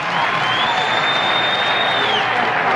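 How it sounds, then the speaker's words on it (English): Baseball crowd at a 1978 Yankees–Angels game cheering and applauding loudly and steadily as a two-strike pitch approaches, a broad roar with a whistle rising over it. "Now the crowd again. They build up to every 2-strike pitch."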